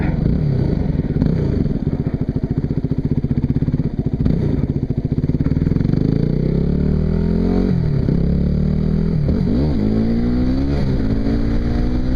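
A Yamaha WR250R dual-sport motorcycle engine revs continuously during a test ride, loud and close, its pitch rising and falling through throttle changes over a steady mechanical drone.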